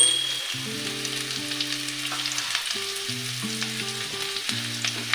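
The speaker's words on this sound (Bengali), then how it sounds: "এগুলোকে আমি হালকা করে ভেজে নেব" Chopped garlic, onion and tomato sizzle lightly in a pan while a palak paneer masala is being made. A steady frying hiss runs throughout, with low sustained musical tones underneath.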